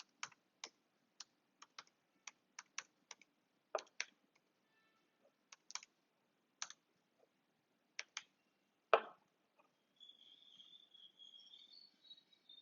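Computer keyboard keys tapped to enter values into a queue program, a sparse run of crisp, close clicks in irregular bursts with pauses, ending with a short soft ticking.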